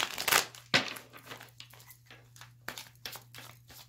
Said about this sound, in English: your cards do not want to shuffle.